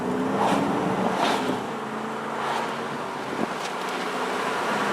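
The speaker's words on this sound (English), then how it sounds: "we're going to take it out for a little ride now, and here we go." A 2001 Dodge Durango Sport 4x4 drives and accelerates, heard from inside the cabin as a steady engine hum and road noise with wind, no talking.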